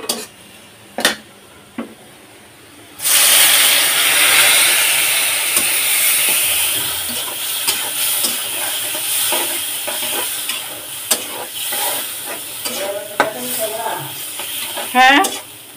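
Shrimp and papaya are sautéed in a pan; after a few quiet knocks, a loud hiss of frying starts and keeps up, with spatula scrapes, clinks against the pan and brief bits of talk.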